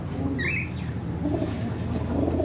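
A pigeon coos softly and repeatedly at close range, a low continuous murmur with faint chirps from other birds around it, in a market setting where pigeons, guinea fowl, turkeys and chickens are kept in cages.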